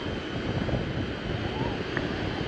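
A lightweight Hoverair X1 drone flies outdoors at roughly 20 meters, giving a steady whirring propeller drone mixed with wind rumble, moderately loud and unbroken.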